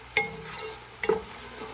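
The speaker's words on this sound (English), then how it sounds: "we can cook this wine through and make sure that the alcohol from the wine evaporates" Wine simmering and sizzling in a pan with coconut curry for mussels, a soft steady bubbling hiss with two brief clinks of a utensil stirring, quiet and close, no speech.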